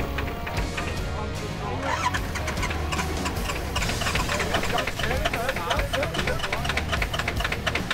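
A rough, loud Jeep engine with a leaking exhaust manifold idles and rumbles with a rapid ticking, puffing rattle, while a person talks over it.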